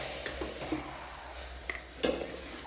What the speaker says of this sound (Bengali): আমি এদিকে মাংসটা কষছি